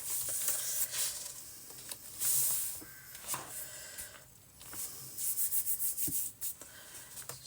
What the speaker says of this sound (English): Sorry about all the rubbing, but I'm no big fan of glue on my fingers.